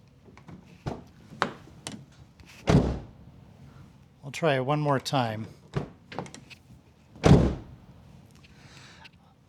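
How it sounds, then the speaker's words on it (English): Mazda 3 car door closing with a dull, hollow drum-like thud, several separate thumps spread through the clip, with someone speaking briefly between the closes. "there's sort of a dull thud or an empty, hollow drum sound when you close the door"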